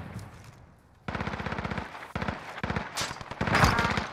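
Rapid automatic gunfire bursts in a multiplayer shooter video game, close and loud, arriving in several sharp volleys after a quiet opening second, with a faint voice barely present.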